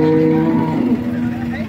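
A cow at the Modnimb cattle market lows in a long, loud, close moo that holds steady and then slides lower, with the murmur of the busy livestock market behind it.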